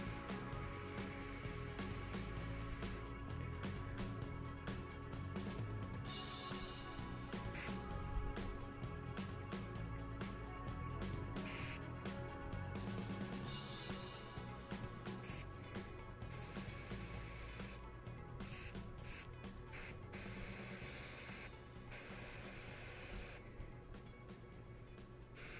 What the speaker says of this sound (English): It's nice that I have black paper that I can spray on to see.